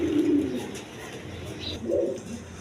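A pair of Lahori pigeons, a black hen and a red cock sitting on two eggs, coo in low throaty bursts, one at the start and another near the end, close by, with no one speaking.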